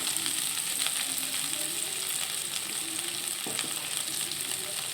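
Chopped banana flower frying with tomato in a pan over raised heat for a masoor dal dish, a constant bright hissing sizzle with a faint stir or two, close and even, no speech.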